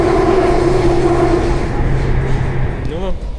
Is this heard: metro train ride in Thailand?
yes